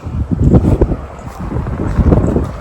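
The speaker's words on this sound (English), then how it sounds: "The wind here is insane again." Strong wind gusting outdoors in a garden planted with young banana trees, roaring and buffeting the microphone loudly and continuously with no talk.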